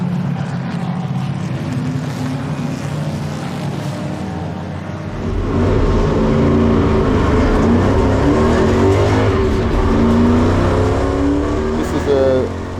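A 1965 Ford Mustang race car built to FIA Appendix K rumbles with a deep engine drone that grows louder and rougher midway, heard over a continuous crowd or track backdrop while someone speaks.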